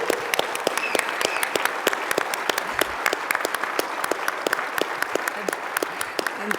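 An audience claps steadily at an awards ceremony, a dense sustained round of applause with sharp individual hand claps standing out.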